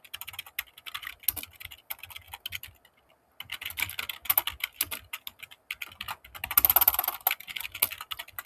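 Code tapped out on a computer keyboard in quick, uneven bursts of close keystrokes, with a brief pause near the middle and a denser flurry toward the end, no speech.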